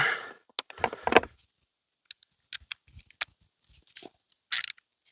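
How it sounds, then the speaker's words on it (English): Small metal bolts on a car are tightened by hand during an oil change, giving sparse metallic clicks, ratcheting ticks and clinks, close and fairly quiet, with stretches of silence between them. "We just got to make sure that these little bolts here are on nice and tight."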